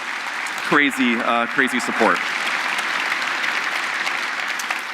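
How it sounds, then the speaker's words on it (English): Audience applause at a Cloud Native Computing Foundation keynote, a steady broad wash of clapping that carries through the whole stretch, with a short spoken phrase near the start laid over it. "So let's do a little round of applause"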